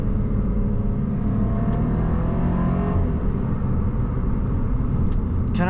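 Inside the cabin of a new car, a continuous low engine and exhaust rumble drones steadily and loudly, with faint burbling crackles toward the end and no talk.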